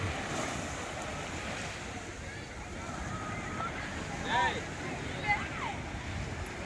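Sea waves wash onto Kanyakumari beach in a steady, rushing roar with wind, while faint voices of people on the shore rise briefly.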